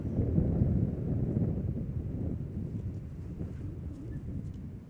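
Steady outdoor wind roars against the microphone on a cold, crisp disc golf course, a continuous low rumble that swells early and then holds at a slightly lower level for the whole stretch.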